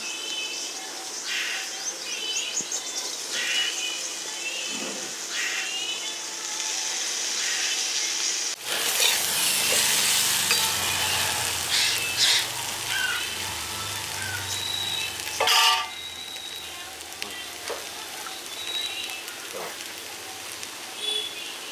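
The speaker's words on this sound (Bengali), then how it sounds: "আমি আলু ভাজাটা কড়াইতে দিয়ে দিচ্ছি" Fried potatoes go into a hot kadai, bursting into a loud, sudden sizzle that settles into a steady crackling hiss, with a faint voice and light clatter in the background.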